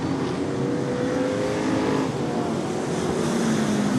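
Race cars on street tires circle a short track in a steady, droning engine roar with shifting pitch as several cars pass and rev, no voices present.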